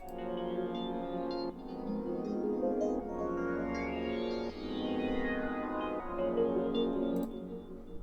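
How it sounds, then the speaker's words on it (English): Sustained synth pad from FL Studio's stock Citrus plugin, a soft, lush chordal wash with gentle chord changes every couple of seconds, quiet and alone. "this pad right here is from FL Studio's stock plugin Citrus"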